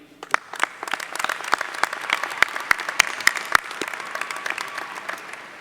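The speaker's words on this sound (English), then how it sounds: "Please hold your applause until all have been introduced" A commencement crowd applauding steadily, many hands clapping at once with a few sharp claps standing out, no talking.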